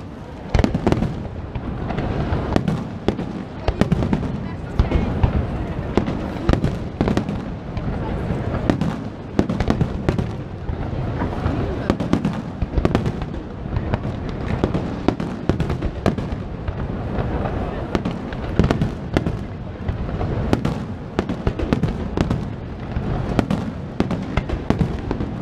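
Redentore festival fireworks bombs burst over Venice in a dense, continuous barrage of loud booms and crackling pops, with voices of onlookers mixed into the din.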